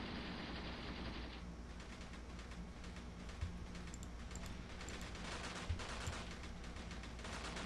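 Distant rapid machine gun fire rattles in the wartime game Graviteam Tactics, a faint continuous stream of bursts over a dense battle rumble with a few sharper cracks.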